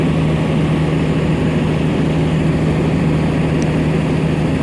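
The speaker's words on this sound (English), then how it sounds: "If that's revving up, normally it's going to leave." Idling rail engine at Tarragona station on the Mediterranean Corridor, a steady low droning hum with a constant tonal note, moderately loud and unchanging, no voices.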